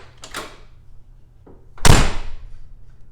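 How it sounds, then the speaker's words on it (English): A car door that won't latch properly is pushed and then slammed: a first softer bang, a faint knock, then a loud, heavy slam nearby that rings out briefly. "I really have to slam it in order for it to latch."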